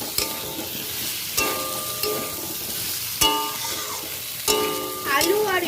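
Masala spice paste being stir-fried in a pan for a jackfruit and prawn curry, with a steady sizzle broken by four sharp scrapes of a spatula against the pan, each one loud and close.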